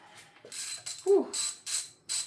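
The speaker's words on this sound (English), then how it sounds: "65 foot-pounds is a lot with a 3/8 ratchet" A 3/8-inch ratchet tightens bolts to 65 foot-pounds during an LS piston install, giving several close, crisp clicking bursts in quick succession with a brief metallic clank among them.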